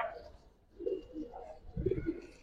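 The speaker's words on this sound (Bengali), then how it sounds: "গোল মাথার কবুতর।" Round-headed pigeons coo in short low bursts, with a quieter call early on and a louder, fuller one near the end, close by.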